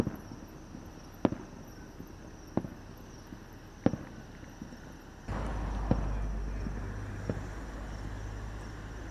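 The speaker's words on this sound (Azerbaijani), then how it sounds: "26 avqust Laçın şəhəri gününün təntənəli məqamlarından daha birisi isə axşam saatlarındakı möhtəşəm atəşfəşanlıq oldu." Evening fireworks at the Lachin city day celebration in Azerbaijan: distant, faint bursts popping at intervals, then a denser rumble of explosions with a few sharper cracks.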